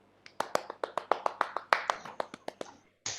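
Roughly fifteen sharp, close claps come in a quick, slightly uneven run from a storytelling audience, clean and dry with short gaps, ending in one final softer burst.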